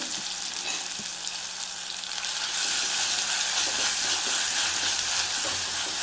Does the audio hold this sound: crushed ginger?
yes